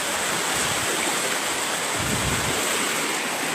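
Fast floodwater after heavy rain in Bihar rushes past in a loud, steady, broadband roar that continues without a break, close to the microphone, with wind buffeting mixed in.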